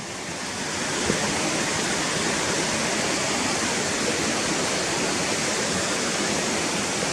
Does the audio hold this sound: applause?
no